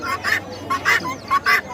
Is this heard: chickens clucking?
yes